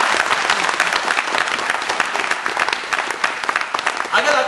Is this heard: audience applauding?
yes